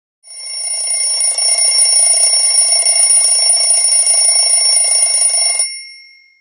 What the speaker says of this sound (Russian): Где-то в вышине заливисто затрещал будильник.